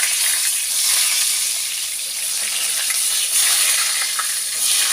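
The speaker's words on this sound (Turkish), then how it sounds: "Ve karışıp kızartma yapacağım." Food fries in a pan, a steady, dense sizzle and crackle holding at an even, fairly loud level throughout with no voices.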